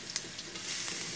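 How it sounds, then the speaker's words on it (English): Garlic sautés in a tablespoon of oil during a chicken, broccoli and mushroom stir fry, giving a close, steady sizzle with a few brief scraping touches. "now we're gonna just saute the garlic"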